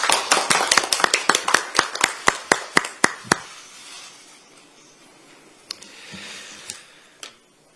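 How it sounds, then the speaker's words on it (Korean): A political recruitment ceremony audience welcomes a former senior presidential secretary with rhythmic unison claps, about a dozen evenly spaced loud beats that stop abruptly, followed by quiet and a few scattered claps. "큰 박수로 맞이해 주시기 바랍니다"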